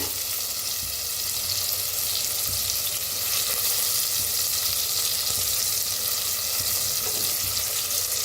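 Onion, cumin, green chili and crushed garlic fry in a pan with a steady, continuous crackling sizzle, fairly close and even in level from start to finish, without any talking.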